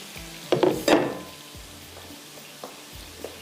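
Fish pieces go into hot oil in a karahi, setting off a loud burst of sizzling and clattering near the start. Softer crackles and occasional small knocks follow as the frying settles.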